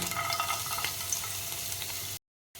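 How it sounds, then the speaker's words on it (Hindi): Ginger, garlic and green chillies fry in hot refined oil for the chilli soyabean, a close, steady crackling sizzle that cuts off abruptly near the end before resuming briefly. "अदा रसुण कंचा लंका 1 मिनिट फ्राए हो"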